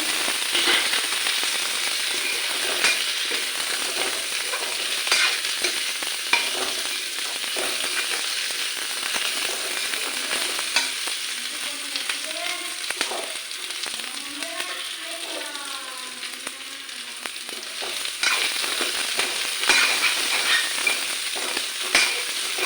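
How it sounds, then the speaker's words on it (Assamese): Loud, continuous sizzling of potatoes frying in a pan, crackling evenly throughout with small pops and no voices. "আলুখিনি অলপ ফ্ৰাই কৰিলে বেছি ভাল লাগিব"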